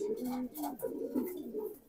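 A female hammer pigeon coos close by, a soft low rolling call repeated in several throaty phrases over about two seconds, with no other sounds around it.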